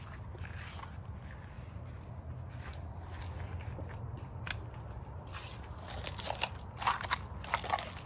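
Wood fire crackling at a campground resort, with a steady low rumble and scattered sharp pops and snaps that grow denser and louder toward the end.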